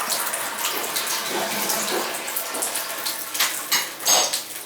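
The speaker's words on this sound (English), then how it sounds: "I'm gonna flush the toilet" Running water from a toilet flush in a house with a leaking tub shower, a continuous splashing rush with gurgling surges, near and fairly steady.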